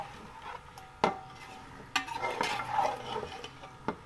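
Chicken stir-frying with ginger and garlic for Lahori chicken nihari makes a quiet, soft sizzle, broken by a few sharp spoon clatters and scrapes against the pot.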